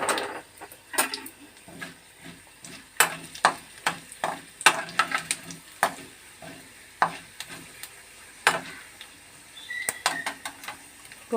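Tempering spices hit hot oil in a kadai, giving close, irregular pops and sharp crackles over a light sizzle, with occasional spoon scrapes and clinks against the pan.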